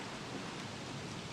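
Steady, dense rain patters evenly in the survival game Don't Starve, a constant soft wash of noise with no voices over it.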